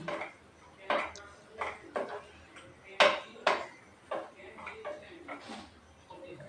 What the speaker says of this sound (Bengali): এবার লাউটি ভালো করে নেড়ে নেব।